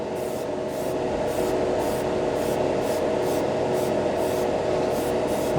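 An airbrush sprays Mr. Hobby acrylic paint onto a white plastic spoon, giving a steady, close hiss of air. A faint pulsing in the upper hiss comes and goes while a constant hum runs underneath.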